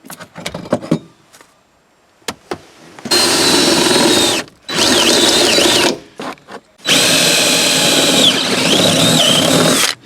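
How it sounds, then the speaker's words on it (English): A power drill boring holes through the body panel of a Nissan 350Z, running in three long, loud bursts with short pauses between, after a few clicks and quiet handling noises. "I might have drilled that one a little extra."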